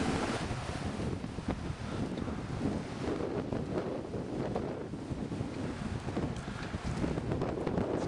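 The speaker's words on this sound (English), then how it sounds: "It's gusting about 50 miles an hour here in the harbor right now as this front comes through." Strong wind gusting around fifty miles an hour in a harbor as a front passes, a loud constant roar with heavy wind buffeting on the microphone and a wash of water underneath.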